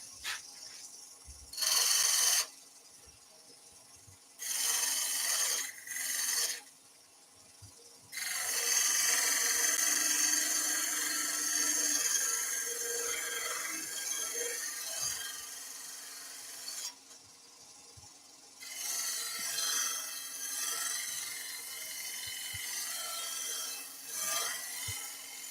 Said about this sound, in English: All I'm going to do is use the parting tool side scrape